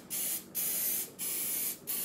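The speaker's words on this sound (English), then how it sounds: "You can use butter or cooking spray." Cooking spray hisses onto a muffin pan in three close, steady bursts, each lasting about half a second, separated by brief pauses.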